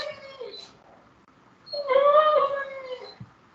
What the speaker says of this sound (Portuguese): Vocês estão ouvindo um cachorro.